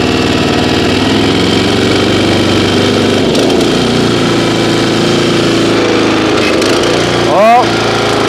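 The Kawasaki small engine on a piece of lawn care equipment runs at a steady idle, loud and close, with an even throbbing drone. Voices speak briefly over it.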